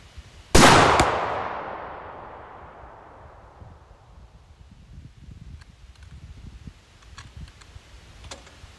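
A single sharp, loud gunshot crack while hunting wild boar at a cassava farm, echoing and decaying over a few seconds, followed by faint outdoor rustling and ticks.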